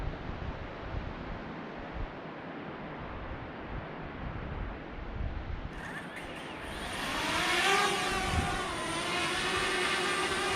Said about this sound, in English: Okay, we've taken off. We got a good hover going here.